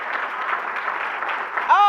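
Audience at a Dr. Martin Luther King, Jr. memorial breakfast clapping hands together, a steady dense applause lasting about two seconds, with a voice cutting in at the very end.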